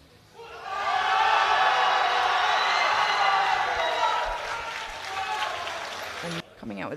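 French supporters in the crowd at the 2023 IPF World Women's Classic powerlifting meet applaud and cheer loudly in a sustained burst lasting several seconds, then it cuts off sharply.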